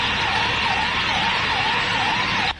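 Fire brigade vehicle siren wailing loud and close as it arrives at a firecracker factory blast site in Bhiwadi, Rajasthan, a steady rising-and-falling tone that cuts off abruptly at the end.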